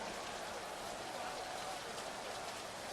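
Heavy rain pours down steadily outdoors at a Canada vs Australia preseason football game, a dense, continuous hiss of downpour with no breaks throughout.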